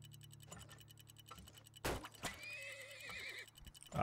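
Horses in the oil-business strategy game Turmoil give a sharp whinny over steady clip-clop hoof beats and a ticking rhythm, a clear neigh rising in the middle and trailing off.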